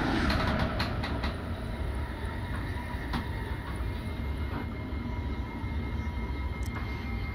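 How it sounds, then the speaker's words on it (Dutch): A DM'90 Buffel diesel multiple unit in Train Simulator 2022 brakes on the Apeldoorn–Almelo Sprinter route approaching Twello station. A steady rail rumble runs throughout, with occasional sharp clicks and clacks. "Dat betekent dat wij onze rem gaan inzetten."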